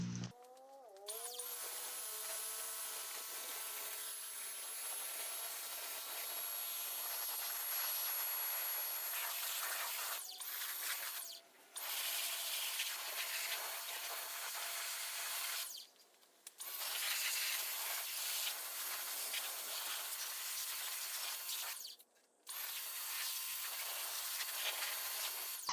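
A hose sprays water over a vintage BSA B44 motorcycle being washed without soap. The broad, steady hissing spray runs for long stretches and is broken by a few short pauses, with no talking.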